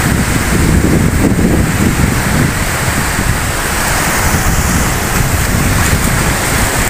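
Sea waves and steady wind roar on the beach at Corralejo, Fuerteventura, in the Canary Islands, a continuous loud wash of surf with wind buffeting the microphone; a brief voice exclaims at the start.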